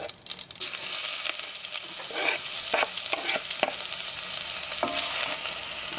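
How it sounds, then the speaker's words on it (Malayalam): Mustard seeds spluttering in hot oil with onion frying for a garlic red chilli curry: a constant loud sizzle, broken by irregular crackles and pops and the scrape of stirring. "അപ്പോൾ കടുക് പൊട്ടിയിട്ടുണ്ട്."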